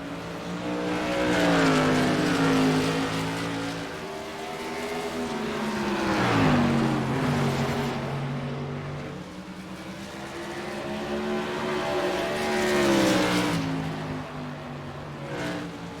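Modified race cars racing at Five Flags Speedway, engines droning and rising in pitch as they pass, several cars swelling and fading in repeated waves, loud and sustained with no talk.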